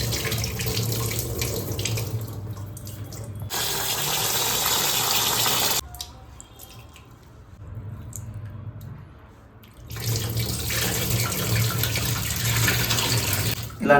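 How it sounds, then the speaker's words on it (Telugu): Basmati rice is rinsed under a running kitchen tap while making chicken fry piece biryani, the water gushing loudly in long stretches with a quieter, softer pause of splashing and dripping in the middle. "సో ఇప్పుడైతే మనం బాస్మతి రైస్ని కడుక్కుంటున్నాము."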